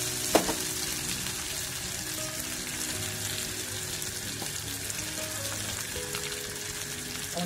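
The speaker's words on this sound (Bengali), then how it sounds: "আমি এর মধ্যে কপিগুলো আবার দিয়ে দিলাম" Cauliflower florets sizzling steadily in a hot pan of oil, a continuous close crackle with a few small pops and faint stirring.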